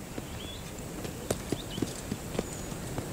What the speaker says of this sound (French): Ça ne me dérange pas de passer toute une journée à faire du cheval.